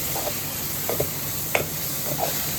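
Soaked tamarind juice is stirred into a vangibath mixture in a pan: faint scraping stirs at a steady pace over a continuous soft sizzle.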